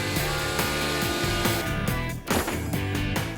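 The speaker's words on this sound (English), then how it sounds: "With some heavy-duty chainsaw action" Heavy-duty chainsaw cutting apart an old boat's hull, a loud continuous motor snarl with rough cutting texture and a brief dip near the middle, no talk.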